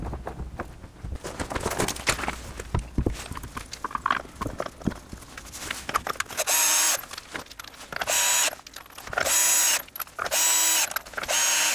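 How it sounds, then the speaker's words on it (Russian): Household cordless screwdriver driving bolts during a steering tie rod replacement on a Volvo S80, heard as several loud, steady whirring bursts of a few seconds each, separated by short pauses, after a stretch of clicking and clattering workshop noise. "Вот это слабенький шуруповерт, обыкновенный домашний шуруповерт."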